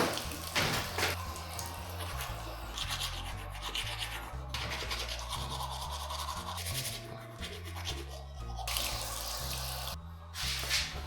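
Teeth brushing after a meal, with close rapid scrubbing and rubbing strokes over running tap water in a sink, loud and continuous, alongside a steady rhythmic background beat, with no talking.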